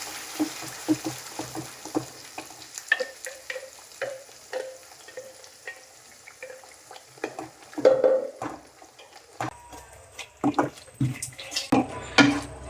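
Mustard seeds, cumin and onion-garlic gravy sautéing in hot oil in a pan for spicy brinjal masala, giving a steady soft sizzle with scattered spatula stirs and clinks against the pan, close by.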